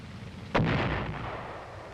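An M551 Sheridan fires a guided missile with a single sharp, loud blast that rings out and decays into a rumbling tail over about a second and a half.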